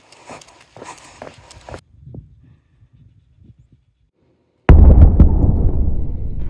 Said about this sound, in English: It's an explosion, I think, over at the Army Depot.